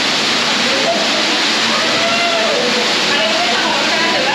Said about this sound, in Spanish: Acabamos de pasar la primera cascada y hay una cueva al fondo.